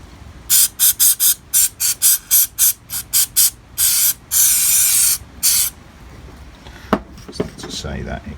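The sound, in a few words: water squirt spraying into bowl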